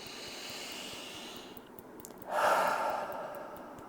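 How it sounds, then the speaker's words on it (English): A single big, deep breath drawn and released during a calming tapping exercise, a soft airy inhale swelling into a louder, breathy exhale, heard close and alone over a low steady hum. "Big deep breath."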